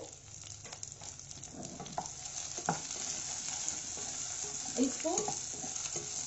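A large, roughly chopped onion fries with Kashmiri chili in a pan, giving a constant hiss with occasional stirring scrapes and clicks up close; a brief word is spoken partway through.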